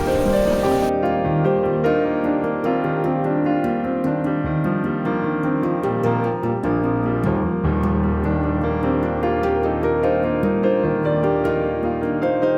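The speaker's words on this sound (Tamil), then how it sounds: "மழை பெய்யுது." Rain falls steadily during a trek in the Sadhuragiri hills, a dense patter that continues throughout, mixed with a sustained tonal background and scattered sharp drop-like ticks.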